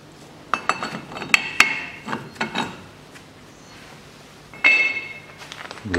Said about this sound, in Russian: Головкой на 30 откручиваю гайку привода